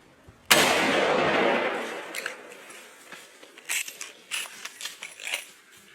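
A single rifle shot from a deer hunt on sika deer in New Zealand, slowed down: a sudden loud blast with a long, drawn-out rumbling decay, followed by scattered faint rustles and thumps.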